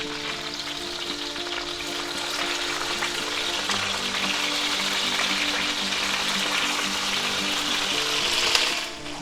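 Thick boneless pork chops sizzle steadily in a cast iron skillet just after being flipped, a loud, continuous frying crackle that holds even throughout and swells slightly near the end.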